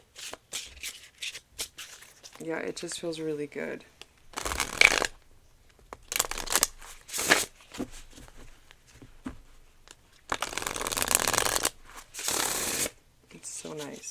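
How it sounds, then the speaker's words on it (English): A tarot deck being overhand shuffled in repeated bursts of crisp card riffling and slapping, close and fairly quiet, with a person talking between and over the shuffles. "I love the way it overhand shuffles."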